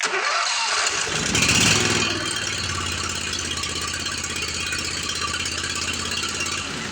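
A Briggs and Stratton 25 hp V-twin small engine with no power and an oil leak cranks and catches, then runs rough with a loud uneven rattling chug, close by and continuous without any voices.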